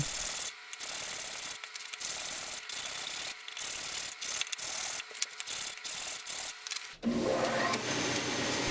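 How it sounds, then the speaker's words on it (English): Wood for chopsticks rubs back and forth across sandpaper laid on a flat surface in quick, rasping strokes with brief pauses, then a harsher scraping sound at the end. "I just put a piece of sandpaper down on a flat surface and I got to leveling everything off."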